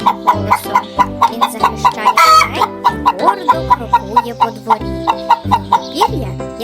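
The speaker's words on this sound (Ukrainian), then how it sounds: "Півень каже кукуріку, кукуріку." Rhythmic clucking of chickens with a rooster's crow mixed in, repeated regularly over a musical backing, close and clear.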